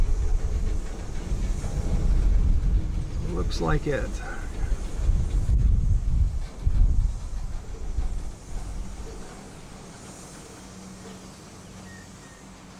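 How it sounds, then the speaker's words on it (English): A CSX freight train with old box cars slows to a stop nearby, low rumbling and a few squealing, clanking car sounds fading to quieter idle; someone talks briefly over it, with some wind noise. "Gonna stop with some old box cars right in front of me."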